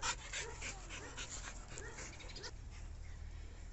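A dog pants quickly up close after eating its dinner, with soft breathy rhythmic huffs and a few faint whimpery sounds in a quiet room.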